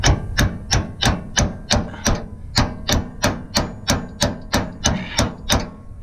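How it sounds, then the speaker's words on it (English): A hammer strikes a wrench set against an upper control arm on an 04-06 Silverado-type truck about fourteen times, each blow a sharp, close metallic clank at a steady, even pace. "I'm going to hit the wrench."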